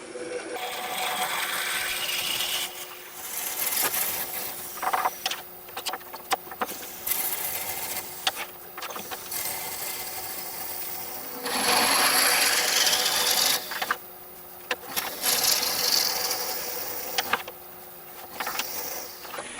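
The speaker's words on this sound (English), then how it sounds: "then I can start hollowing and shaping the neck of the vessel, and then we can go about starting to hollow it" A wooden vessel of highly figured wood turns on a lathe while a tool hollows and shapes its neck, giving a continuous harsh scraping hiss that swells and drops as the cut changes, with brief pauses between passes.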